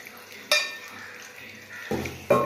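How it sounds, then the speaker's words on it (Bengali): Eggplant frying in a wok with a soft, steady sizzle throughout, broken by several sharp utensil clatters and scrapes against the pan. "সবে আমি এখন কড়াই বেগুন দিয়েছি, বেগুন ভাজা হবে"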